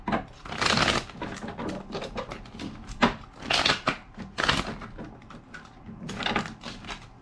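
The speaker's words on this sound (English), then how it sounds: "Two more shuffles." Tarot cards are shuffled up close in rapid riffles and flutters, with a few sharp slaps and taps in between. Nobody speaks.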